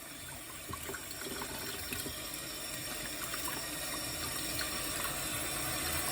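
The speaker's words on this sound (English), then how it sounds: "Let me get started with washing my broccoli. Get my broccoli cleaned up." Tap water runs steadily into a kitchen sink while broccoli is rinsed, a continuous close splashing hiss that stays even throughout.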